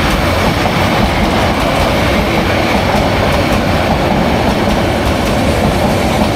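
A train rolls past at close range, a loud, continuous rumble of wheels on the rails with a faint rhythmic clatter that stays strong from start to end.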